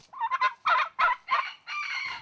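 Several short, raspy bird calls in quick succession, close by, ending in a longer warbling call; heritage-breed turkeys gobbling on a farm, with no talking.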